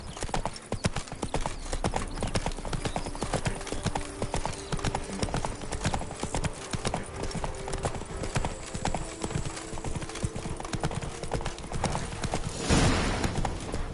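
Hooves of Roach, the horse in The Witcher 3, clop in a quick, steady trot close by, with a snort or whinny near the end.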